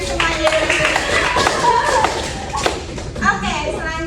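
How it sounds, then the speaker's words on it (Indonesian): Classroom students clapping briefly amid children's chatter, with taps, thumps and shuffling, and voices talking through most of it. "Tepuk tangan dulu dong buat Dian semuanya."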